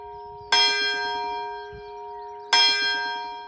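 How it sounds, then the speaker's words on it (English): A church bell rung as an alarm: two loud, clear strikes two seconds apart, each ringing out with a long, shimmering decay, with no talk. "They raised the alarm to warn their colleagues in the Haugh by ringing the church bell."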